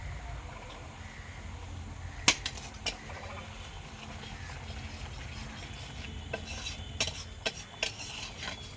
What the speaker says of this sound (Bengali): বাটা দিলাম আর একটু ঘি দিয়ে নেড়ে চেড়ে নামিয়ে নেব।